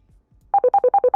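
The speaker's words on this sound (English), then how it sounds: "Oh, hang on, I'm getting a phone call here." An incoming phone call ringtone sounds as a loud, close electronic two-tone warble, rapidly alternating pulses after a brief near-silent lead-in, with no voices.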